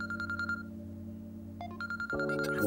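An electronic phone ringtone chirps in repeated tonal bursts, pausing briefly before ringing again over a steady low background hum.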